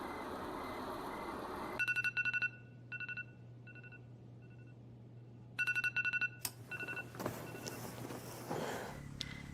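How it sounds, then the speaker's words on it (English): A phone alarm ringtone plays in short bursts of bright electronic beeps, pausing, then returning louder, against a low hum and some rustling movement. "That's my ringtone to wake up."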